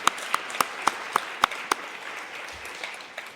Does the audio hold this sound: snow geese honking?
no